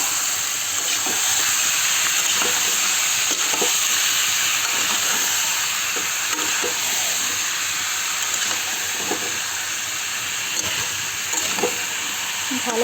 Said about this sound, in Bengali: আর কড়াতে তেল দিয়ে একটু জিরে ফোড়ন দিয়ে দিচ্ছি। এবারে আমি মাংসটা দিয়ে দিচ্ছি।